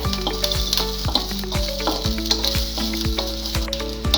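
Garlic and eggplant frying for a Karnataka-style badanekai chutney give a steady, close sizzle with repeated scraping strokes of a spatula against the pan, running throughout without any voices.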